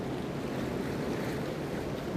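Ocean waves washing around a small paddled boat with its nose held into the swell, a steady close sloshing and surf wash mixed with wind buffeting the microphone, no talking.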